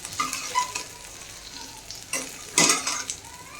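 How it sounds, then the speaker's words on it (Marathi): Kad dane frying in a pan while being stirred until golden: a close, crackling sizzle broken by several louder scraping stirs, with no talk. "आता गोल्डन कलर होईपर्यंत फ्राय करून घ्यायचा"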